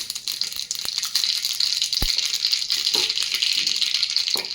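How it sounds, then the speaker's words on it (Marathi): A spoonful of mustard seeds spluttering in a spoonful of hot oil in a kadhai: a dense, continuous crackle with scattered sharp pops, close and fairly loud, with no talking. "यामध्ये एक चमचाभर मोहरी घालून घेऊयात मोहरी छान तडतडली पाहिजे"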